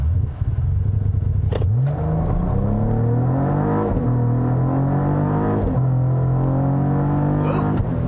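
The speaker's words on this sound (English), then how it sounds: "Ready? Launch control." A 2022 Cadillac CT4-V Blackwing with manual shift launches hard using launch control, the engine climbing in pitch through several gears with brief dips at each shift, loud and close from inside the car.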